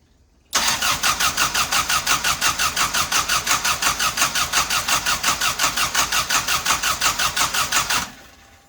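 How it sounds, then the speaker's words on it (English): A Mopar car engine cranks without catching, the starter turning over in a fast, even rhythmic chug for about seven and a half seconds, loud and close, then stopping. "Keep cranking it until it fires."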